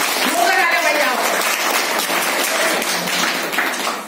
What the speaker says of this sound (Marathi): एकदा सगळ्यांना जोरदार स्वतःसाठी टाळ्या वाजवा.